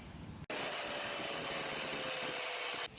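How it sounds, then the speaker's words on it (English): A cutoff wheel slicing through a metal cylinder on a DIY belt sander build, a loud continuous high-pitched grinding whine that starts abruptly and keeps a steady pitch until it stops near the end. "take a cutoff wheel, cut this whole thing off"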